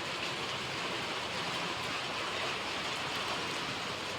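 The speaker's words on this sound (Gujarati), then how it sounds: "અત્યારે વરસાદ ચાલુ છે।" Steady rain pouring down outdoors during the wet season, a dense, even hiss of falling drops that stays loud and unbroken throughout with no voices.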